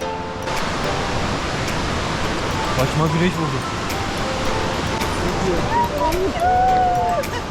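A Colorado waterfall rushes in a constant, dense roar. A person speaks over the steady water noise.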